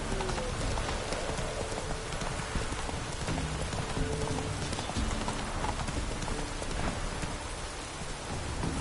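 Roach the horse gallops in The Witcher 3, hoofbeats drumming fast and steady beneath a heavy wash of rain.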